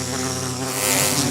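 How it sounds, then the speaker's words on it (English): A huge bee in a video game buzzes steadily and loudly, a dense droning hum that swells slightly toward the end, with no talk over it. "That is a huge bee."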